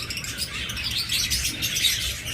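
Pet birds for sale chirp and tweet in quick, overlapping bursts close by, a busy bright chatter that carries through the whole moment without any talking.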